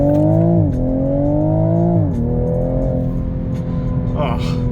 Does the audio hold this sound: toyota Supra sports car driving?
yes